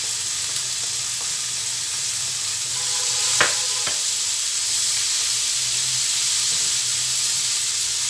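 Seasoning paste sautés with carrots and red chili in a pan, a loud continuous sizzle and hiss broken by a couple of sharp scraping stirs, with no one talking.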